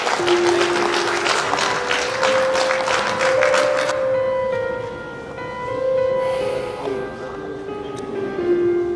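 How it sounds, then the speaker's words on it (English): Conference audience gives a warm round of applause, a burst of dense clapping for about four seconds that stops abruptly, followed by a quieter room with a faint tonal hum. "Please let us give him a warm round of applause."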